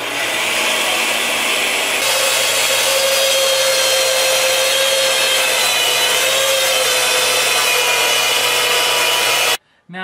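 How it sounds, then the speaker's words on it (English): A bandsaw cuts out wooden pieces for a Chu-ko-nu repeating crossbow, giving a loud, close, continuous rasping whine that holds steady for several seconds before cutting off suddenly near the end. "So we're going to start with a bandsaw."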